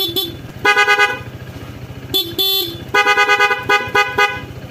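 A PCX160 hybrid scooter's horn honks repeatedly in short and longer bursts, loud and close, over its running engine.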